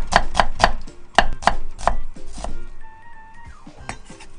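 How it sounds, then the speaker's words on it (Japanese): A knife thinly slices onions on a cutting board in a home kitchen, making a quick series of sharp, close chopping knocks, then a brief pause and a couple more cuts. "玉ねぎは薄切りです。"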